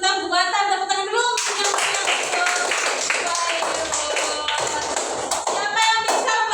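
Classroom students clap their hands together, a burst of quick taps and claps that begins after a voice speaks and continues under more talk.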